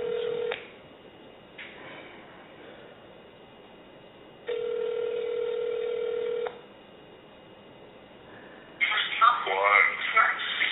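Telephone tones sound down a phone line during a call, with short bursts followed by two long steady ringing tones. A voice comes on the line at the end.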